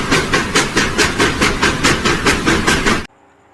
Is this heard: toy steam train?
yes